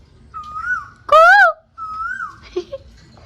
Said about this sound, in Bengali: কোকিল ডাকছে, কি সুন্দর।